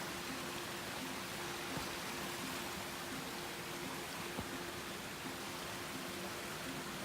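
Steady broadband rush of a small creek on the Ouachita Trail flowing nearby, continuous and even throughout, with a faint low hum underneath.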